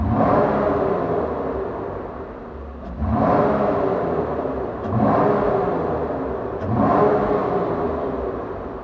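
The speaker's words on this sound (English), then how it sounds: "Give y'all a couple revs for the Borla ATAK here. We'll go from the front and the back. A little front profile rev for you." V6 Dodge Challenger with a Borla ATAK exhaust, heard from the front as it revs three times, each rise swelling over a steady idle rumble.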